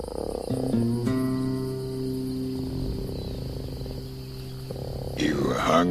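Frog croaking in a swamp scene from the Mark Twain jumping-frog story, steady tonal calls held over several seconds alongside insect-like chirring, with a noisier burst near the end.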